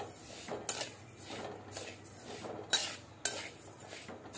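Fine village rice is dry-roasted in a pot and stirred, heard as rhythmic metal spoon scrapes and sharp clinks against the pot, fairly close, with no voices.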